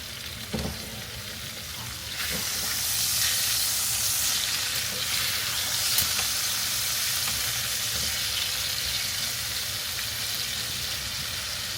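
Steaks sizzle loudly in a hot pan, a steady bright hissing fry that swells after a brief clunk and holds constant, with no talking.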